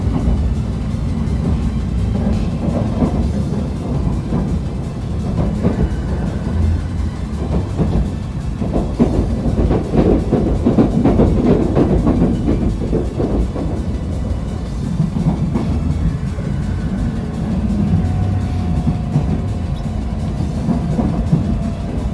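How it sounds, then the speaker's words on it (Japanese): Steady rumble of a Nozomi Shinkansen slowing on its approach to Nagoya as a rapid train overtakes it, a broad continuous low roar with rising rattle midway and a faint tonal whine near the end, no talking. "名古屋到着直前に、ね、減速するということでね、追い抜いたはずの快速列車に追い抜かれていきます。"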